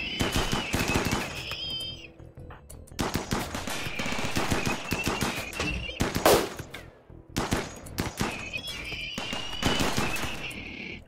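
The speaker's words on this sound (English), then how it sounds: "Let's turn this turret back on." An automated turret in RimWorld opens fire on attackers in repeated rapid bursts of gunshots, loud and close, separated by short pauses, with one sharper crack partway through.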